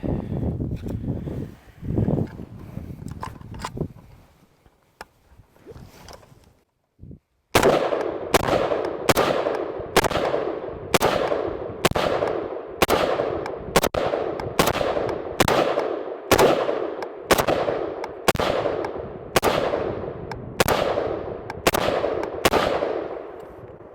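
Repeated gunshots from a Beretta AR70 rifle fire at an outdoor range, about fifteen sharp cracks at a steady, even pace after a few seconds of muffled handling noise.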